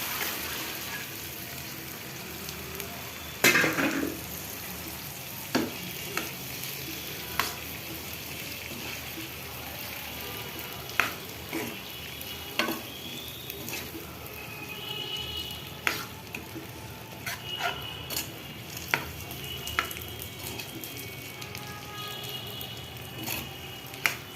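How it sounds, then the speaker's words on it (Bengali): Chickpeas and boiled gram frying together in a pan of cooked-down spice paste, a steady soft sizzle broken by repeated scraping stir strokes and clinks of the spoon, no talk. "আমি এখন এই ছোলা আর বুট একসাথে দিয়ে দিব।"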